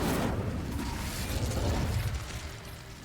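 Fiery burst of the Incendio spell in Hogwarts Legacy, a loud whooshing roar that flares at once and rolls on for about three seconds before easing slightly.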